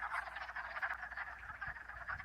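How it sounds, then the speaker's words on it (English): Frogs croak and trill from a farmstead pond in maple season, a dense overlapping chorus of calls that stays steady and moderately distant. "Frogs covering the surface."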